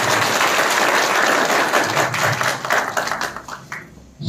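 Audience at a Naswiz Phytowiz training session in Nepal applauding loudly, a dense steady wash of clapping that thins out and fades toward the end.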